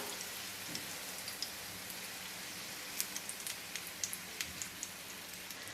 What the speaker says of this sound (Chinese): 用这种半煎半炸的方式